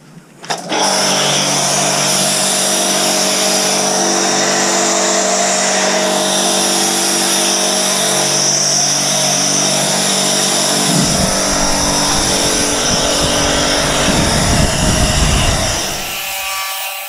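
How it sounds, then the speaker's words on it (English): A pressure washer snow foams a 2019 dirt bike, a loud continuous motor whine and spray hiss starting abruptly and running steadily, with rougher splashing toward the end before it cuts off. "let's get on with snow foaming."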